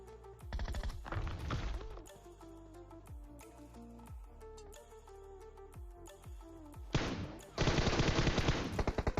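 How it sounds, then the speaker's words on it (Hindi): Gunfire in the mobile battle-royale game PUBG Mobile, with rapid bursts of automatic fire early and again loudly near the end, separated by quieter stretches of scattered shots and in-game clicks. "उस साइड से जो है किसी ने फायर किया।"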